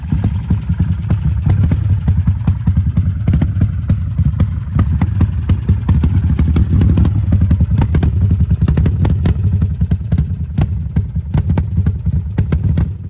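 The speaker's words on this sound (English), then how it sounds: "That bike runs." A motorcycle engine runs close by with a loud, steady, throbbing beat and dense rapid pulses for the whole stretch, along with a few clattering knocks.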